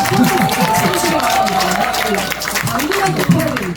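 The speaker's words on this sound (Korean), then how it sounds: "와, 박수 주십시오, 여러분" Audience applause at a political party members' day talk event in Cheongju, moderate and continuous, mixed with crowd murmur and a voice speaking over it.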